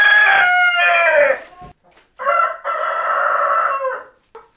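Light Sussex hens on a farm make loud, close clucking and drawn-out crowing-like calls in two long bursts separated by a brief quiet gap.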